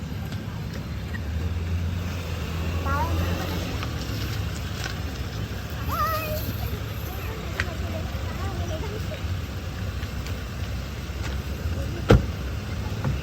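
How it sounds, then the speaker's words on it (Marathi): A car engine hums nearby with steady road rumble while people chat in the background, ending with a sharp click. "आता कार आलेली आहे."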